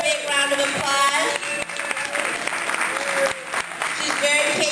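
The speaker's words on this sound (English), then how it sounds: "let's give her a big round of applause" Dinner audience gives a warm round of applause, dense clapping at steady loudness throughout, with some voices mixed in.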